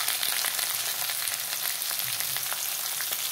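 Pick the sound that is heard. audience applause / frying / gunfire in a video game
frying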